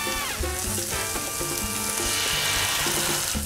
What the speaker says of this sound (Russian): В течение 30 минут прожариваем томат с горчицей